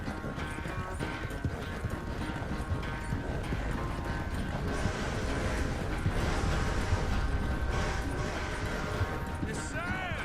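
Thoroughbred horse hooves clip-clopping in Red Dead Redemption 2, a steady close gallop rhythm over continuous game ambience and music, with voices talking over it.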